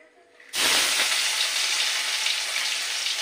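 Prawns hit hot mustard oil about half a second in, setting off a sudden loud sizzle that stays as a steady bright hiss of frying to the end.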